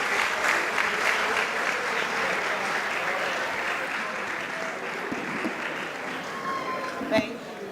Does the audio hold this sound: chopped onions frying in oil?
no